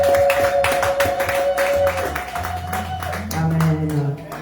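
A church congregation claps in steady rhythmic beats while acclaiming Jesus Christ, with singing or chanting voices and a sustained tone running underneath.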